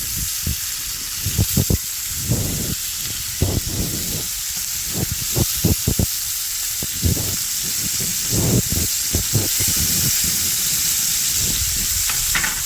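Meat sizzles steadily in a hot pan while cooking dinner, a continuous frying hiss broken by irregular low bumps and clatters of stirring, close and fairly loud with no talking.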